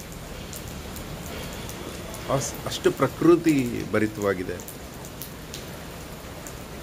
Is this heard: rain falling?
yes